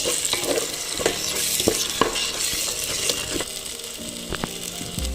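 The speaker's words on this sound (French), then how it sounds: "Ensuite, nous allons rajouter de la concentrée, de la tomate concentrée, on rajoute. Et je mélange le tout de nouveau." Chicken curry with tomato paste being stirred in a pot, giving close scraping and clinking strokes at an irregular rhythm over a steady sizzling hiss, with no talk.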